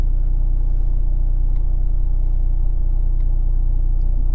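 A 2024 Mercedes GLC43 AMG gives off a loud, steady low engine drone and rumble heard from inside the cabin, holding an even pitch throughout without talk.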